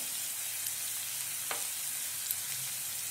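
Tomatoes fry in a pan for a bitter gourd curry, a soft, steady sizzle heard faintly and evenly throughout, broken by a couple of small taps.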